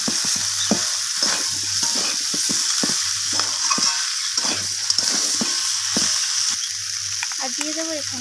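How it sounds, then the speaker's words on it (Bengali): Spices and vegetables with garlic paste frying in a pan as they are stirred: a constant sizzle broken by sharp scraping strokes of a spatula at irregular intervals, close and fairly loud. "সমস্ত কিছু মশলা আমি সবজির সাথে এইভাবে নাড়াচাড়া করে ভেজে নিচ্ছি।"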